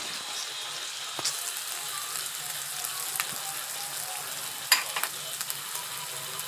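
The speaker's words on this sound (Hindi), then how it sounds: "आलू जल्दी पकता नहीं है और इसलिए मैं थोड़ा सा ज़्यादा फ्राई करूँगी" Potatoes fry in a pan for methi aloo sabji, giving a steady soft sizzle with a few sharp clicks and scrapes of stirring.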